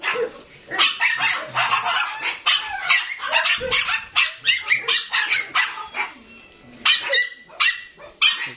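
An American Eskimo puppy yaps in quick bursts of high, close barks, some sharp and some whiny, with brief pauses between volleys.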